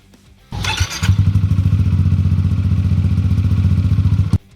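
A Yamaha X-MAX maxi scooter engine starts with a sharp burst, then settles into a loud, close, steady idle with a fast even throb before cutting off abruptly.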